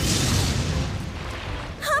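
A deep, rumbling boom from an anime battle swells loudly at the start and then fades into a low roar, followed by a short burst of higher tones at the close.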